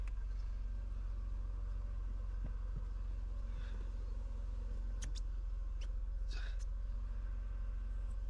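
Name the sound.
Mercedes W124 M103 engine idling to warm up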